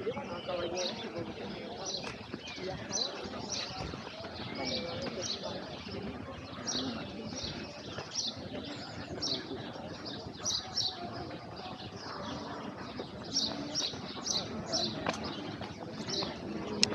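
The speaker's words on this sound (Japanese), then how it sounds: "鳥の声がすごいね。" Birdsong and pigeon cooing fill Retiro Park in Madrid, with repeated bright chirps and tweets over soft coos and a steady outdoor hum, continuing throughout with a little background activity.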